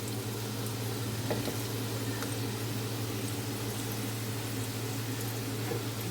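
Egg sizzles steadily in hot oil for an egg and prawn dish, a soft even frying hiss with a low background hum, unbroken and close.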